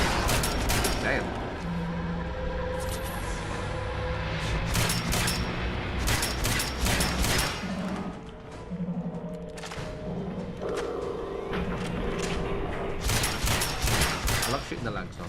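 Gunfire in Fallout 4 comes as repeated bursts of shots scattered over fifteen seconds, sometimes in quick volleys, mixed with thuds, game sounds and speech in places.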